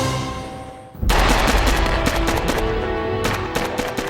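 Rapid, loud bursts of automatic gunfire erupt after a quiet second in a Los Angeles police shootout with two heavily armed bank robbers, with dense overlapping shots continuing to the end.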